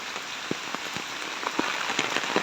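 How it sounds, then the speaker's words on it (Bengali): Heavy rain pours down steadily in a Bangladeshi setting where water is pooling, with a dense hiss and scattered louder drop impacts hitting nearby surfaces, continuous and close, with no voices. "এই সময়ে এই বৃষ্টি কারো কাছে কাম্য ছিল না"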